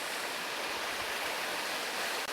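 Steady broadband roar of a roughly 120-foot waterfall in the Grand Canyon, a continuous rushing wash of falling water heard up close and alone, with no voices.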